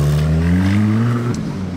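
RUF SCR sports car engine revving, a loud, close, rising growl that climbs in pitch then drops sharply as the throttle is released near the end.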